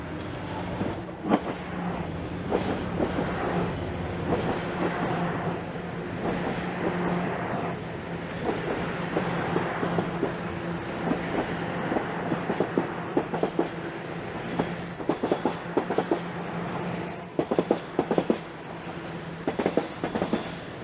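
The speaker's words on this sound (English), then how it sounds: "take in a southbound train here at least." A southbound train rumbles steadily past at moderate distance in Toronto's Summer Hill neighbourhood, its wheels clicking rhythmically over rail joints, with the clatter sharpening toward the end.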